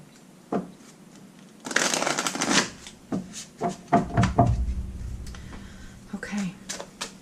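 Angel oracle cards are shuffled by hand, with a burst of riffling followed by irregular slaps, taps and sliding of the deck on a surface, close by, with a voice briefly heard.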